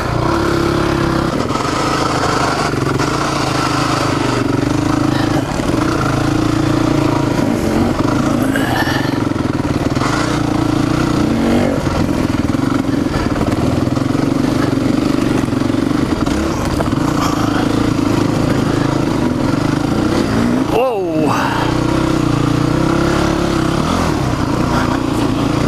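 A 2015 KTM 250XC two-stroke dirt bike engine runs loud and steady nearby for the whole stretch, a rough buzzing drone with slight throttle swells and one brief dip near the end, no talking heard.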